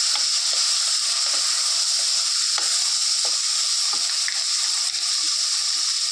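Cleaned dried fish fry in hot oil in a pan, a steady bright sizzling hiss with occasional soft stirring scrapes and pops close by.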